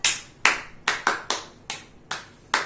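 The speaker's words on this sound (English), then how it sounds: "All of you clap your hands." Children in a kindergarten class clap their hands together in unison, seven sharp, loud claps with short pauses between them and no talking.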